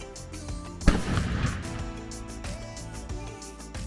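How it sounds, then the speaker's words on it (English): A sharp, loud report of rifle or cannon fire during a daily firing demonstration at a historic fort on Mackinac Island, a single blast followed by a rumbling decay and lingering echo. "Every day there are rifle and cannon firing demonstrations at the fort."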